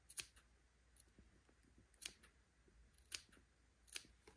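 Scissors snip notches into the seam allowance of a fabric neckband on a baby garment, four or five sharp, quiet clicks spaced about a second apart against a hushed room.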